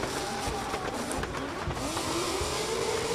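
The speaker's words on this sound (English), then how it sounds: "We move it along to Ahmed Al-Hajri in this Nissan 350Z" A Nissan 350Z drift car at a drift championship qualifying round in Oman, engine whining and rising under heavy roar and tyre noise, heard at a distance over a constant crowd-and-track wash.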